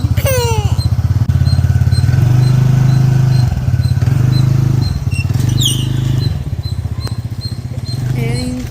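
A small scooter engine idles with a steady, buzzy putter that rises and falls slightly, close by, along with a few faint squeaks.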